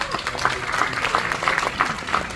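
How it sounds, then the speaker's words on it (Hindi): Audience clapping at an Independence Day college celebration, moderately loud and slightly pulsing, with a faint murmur of the crowd beneath. "एक बार फिर से जोरदार तालियां आ जाए"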